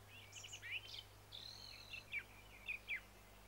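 Several songbirds singing outdoors: skylarks, thrushes, robins and nightingales, with bright chirps and trills that come in short separate phrases, closer notes standing over a steady low hum, and no voices.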